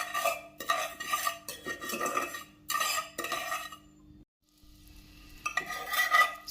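Sugar and a little water are stirred in a pot for kheer with a metal spoon, giving repeated close scraping strokes in uneven bursts, broken by a brief near-silent pause before the stirring resumes.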